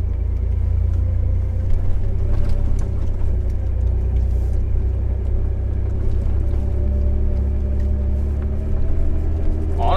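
A truck on Super Swamper tires pushes through deep snow, its engine a loud, steady low rumble and whir close by, continuous throughout with no talking.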